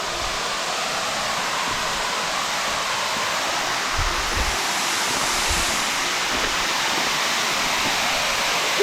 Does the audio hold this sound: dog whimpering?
no